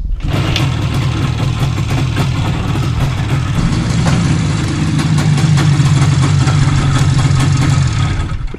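An old IZh Jupiter 5 motorcycle engine runs close by with a loud, steady, throbbing idle that holds an even level throughout and rises slightly in the second half.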